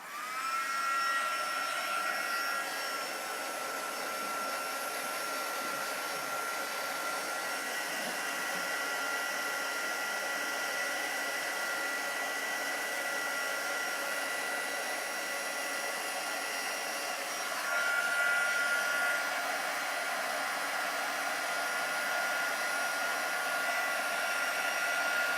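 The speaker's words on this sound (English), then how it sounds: "Now we're going to turn the heat gun on" Heat gun running during a crafting session, blowing at a steady loud hiss with a constant high whine for the whole stretch, slightly surging near the end, with no talking over it.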